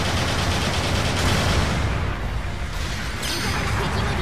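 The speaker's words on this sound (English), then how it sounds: "Long range cannon." Heavy long-range cannon fire in Gundam Battle Operation 2 booms in a dense, sustained barrage, loud and close, easing slightly midway before a sharp whooshing burst near the end.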